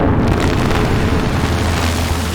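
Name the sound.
synthesized fake explosion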